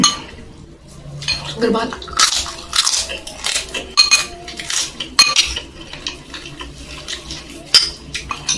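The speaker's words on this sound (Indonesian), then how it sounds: "Aduk-aduk dulu ya guys ya" Metal spoon clinking against a bowl while stirring soto ayam with rice during an Indonesian mukbang, with scattered sharp clinks and scraping close up, plus brief talk and eating sounds.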